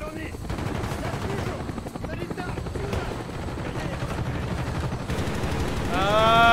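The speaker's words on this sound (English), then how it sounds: "We're taking heavy fire from the helicopter." Helicopter gunfire in the video game Call of Duty: Black Ops: a dense, continuous rattle of rapid shots over a rotor drone, loud and sustained throughout, with a rising tonal whine near the end.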